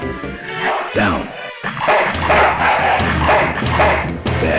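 A dog in the 1995 adventure game Full Throttle barks and yips repeatedly in short excited bursts, loud and close, with a voice talking over parts of it.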